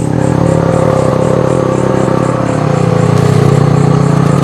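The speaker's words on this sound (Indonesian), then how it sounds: "Ada motor." Motorcycle passing along a forest road near a campsite at Curug Panjang, Megamendung, a steady mid-pitched engine drone that holds loud and close throughout, shifting slightly in pitch partway through.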